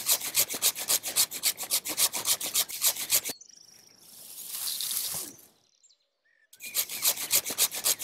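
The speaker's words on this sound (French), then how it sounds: "je change d'outil et je prends ma scie" A hand saw cuts through a thick branch while a large olive tree is being pruned, with a fast, steady rasping stroke rhythm that pauses briefly mid-cut before resuming loud and close.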